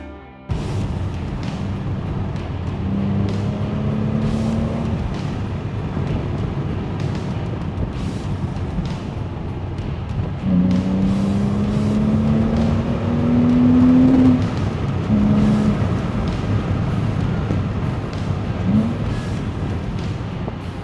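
Porsche Cayman S 987 Gen 1 with a rebuilt engine driving on the road, steady engine drone with rising pitch sweeps as it accelerates through gears, wind buffeting the microphone throughout, no talking.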